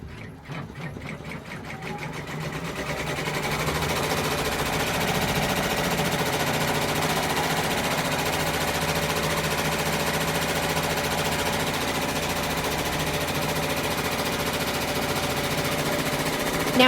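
A multi-needle embroidery machine stitches the bottom part of a placement stitch for a Halloween Boo Manor tile design, starting with distinct rapid needle taps that settle into a loud, steady, continuous mechanical rattle, with no talking.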